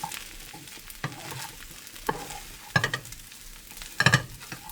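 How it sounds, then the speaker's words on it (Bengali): Rice frying in a pan with little oil and sticking to the bottom, stirred with a utensil in several scraping bursts over a low steady sizzle, close and fairly quiet. "খুব সুন্দর হয়েছে ভাত ভাজা"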